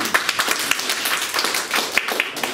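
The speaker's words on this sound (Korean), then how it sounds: "박수 한번" Church audience at a Korean church's lay Bible academy in Orange County applauding a visiting pastor, a brief burst of scattered hand claps filling a room at moderate volume.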